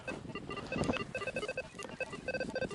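A metal detector sweeping a field gives a fast, warbling string of electronic beeps at several pitches, steady and moderately loud, with no talking over it.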